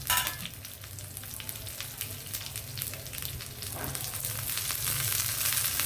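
Greens frying in hot oil in a pan give a dense, continuous sizzle that grows slightly louder, with occasional stirring scrapes close by.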